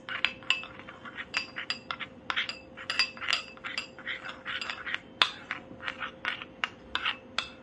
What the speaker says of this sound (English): Mix these two together. Just mix and mix.